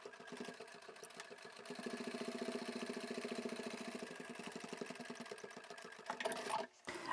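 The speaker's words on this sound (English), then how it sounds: "So I'm just starting at the corner here and sew very close to the edge." A sewing machine top-stitches close to the edge of a fabric storage box, running in a steady, continuous rapid stitching drone that holds for several seconds before stopping briefly near the end.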